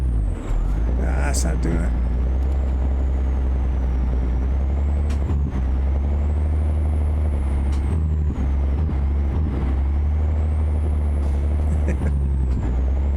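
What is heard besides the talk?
truck air brakes in American Truck Simulator video game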